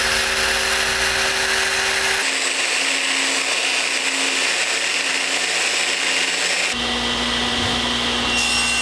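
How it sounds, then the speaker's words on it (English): A Festool LS130 power sander runs continuously against curved wood on a gate, a loud steady abrasive whir with shifts in pitch as the pressure changes. "And I used a Festool LS130 for final sanding on all the curves."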